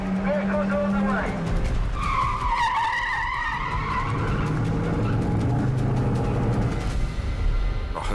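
Tires skid and squeal loudly as cars race during a filmed car chase on the Las Vegas Strip, with rising and falling screeches over a rumbling engine roar.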